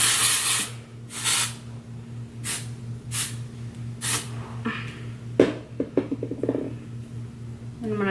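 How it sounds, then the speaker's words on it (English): Short bursts of hairspray misted over curled hair, about six or seven separate hissing sprays spaced a second or so apart, close and fairly soft, followed by light rustling and handling sounds near the end. "I just kind of give it like one more final spray"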